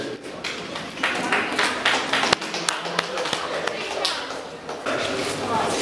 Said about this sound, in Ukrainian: Оплески, знову ж таки.